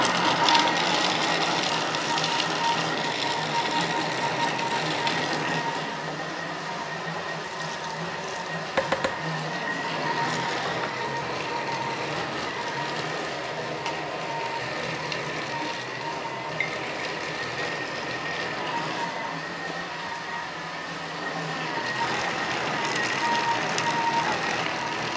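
Thermomix kitchen machine running at top speed 10 while making truffle boudin blanc, a loud, steady whirring roar that holds for about twenty-five seconds without talk.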